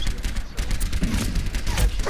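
An enemy turret firing in the video game Overwatch, loud and close, with rapid repeated shots running steadily through the whole short stretch.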